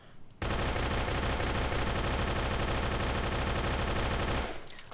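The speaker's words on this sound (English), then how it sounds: "I want to go into the Tommy gun just to show you the recoil of this weapon" Tommy gun in the video game Darkest Days firing one long sustained automatic burst, loud and close, rapid even rattle for about four seconds before cutting off.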